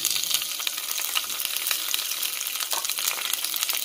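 Hot oil frying in a pan for a Malabar chicken snack, a steady dense sizzle with constant crackle throughout, close and fairly loud with no voices.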